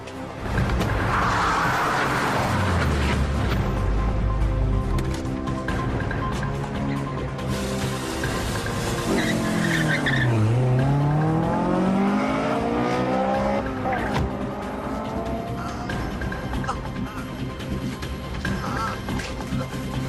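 Ford race car engines roaring close by, with revs swooping up and down as a car passes, tires squealing and skidding, and brief bits of talk mixed into the loud action.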